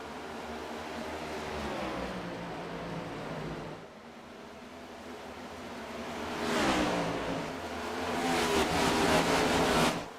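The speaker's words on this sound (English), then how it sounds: "Pace car makes its way down a pit road. The 13 of Craig Lounslogger, a driver in the Championship 5 1 season ago, will grab the green flag" Cup series race cars in a racing video game roar off at the start of a race at Dover, a dense droning pack of engines that dips briefly, then swells louder and closer as the field accelerates, with no talking.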